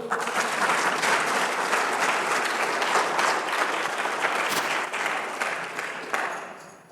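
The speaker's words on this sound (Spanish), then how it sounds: "Denle un aplauso al Señor" A church congregation breaks into loud, sustained applause during a sermon. The dense clapping holds steady for several seconds, then tapers off at the end.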